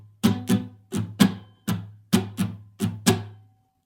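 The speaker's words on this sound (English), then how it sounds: "all I'm doing there is I'm muting all my strings" Nine sharp, percussive scratchy strums of muted guitar strings, evenly paced and close, each a quick choked chuck with no ringing notes.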